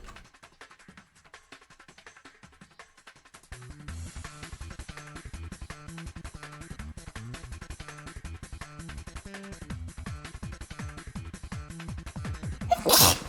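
A single sharp sneeze bursts out near the end, loud and close, over steady background music during a solo online card-farming game session.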